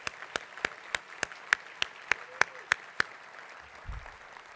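Audience applause for students at a university honors and awards ceremony: about a dozen sharp, evenly spaced claps ring out alone over a quiet room, ending just before a brief low thump.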